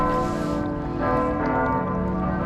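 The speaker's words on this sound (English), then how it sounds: "here we're enjoying the bells" Church bells ring out over the water at night in Stockholm, a sustained, layered peal of overlapping tones that fills the whole moment without any talking.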